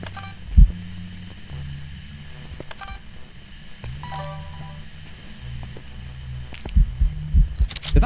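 A steady, loud heartbeat thumps in a low repeating rhythm during the ghost-hunting video game Phasmophobia, with faint electronic beeps and hum, and a sharp click near the end.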